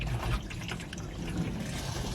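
Water poured over a car headlight runs in a steady close trickle, with small drips and splashes as it seeps into the lamp housing, moderately loud and without voices.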